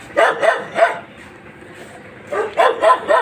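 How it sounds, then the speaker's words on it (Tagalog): Dogs bark in two short bursts of three or four sharp woofs each, separated by a quiet gap, moderately close. "Medyo may mga aso lang."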